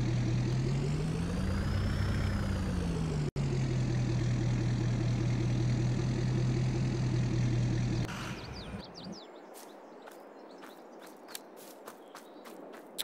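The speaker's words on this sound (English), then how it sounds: "So let's park our pickup truck in the driveway here." A pickup truck engine in Farming Simulator 22 runs steadily with a low rumbling hum and slight pitch rise and fall, then cuts out after about eight seconds, leaving quiet scattered clicks and taps.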